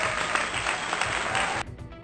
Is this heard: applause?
yes